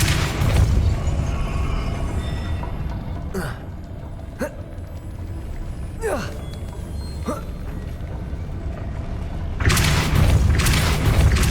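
Depulso spell casts in Hogwarts Legacy fire off as several sharp whooshing pulses with swooping tones over a low rumbling game soundscape, closed by a heavier boom, and a voice speaks between them.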